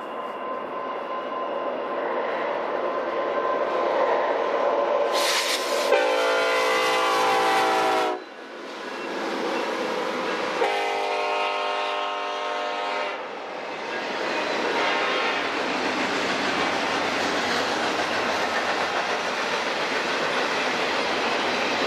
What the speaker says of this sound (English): we catch a northbound BNSF stack train with some auto racks and center beam flat cars on the rear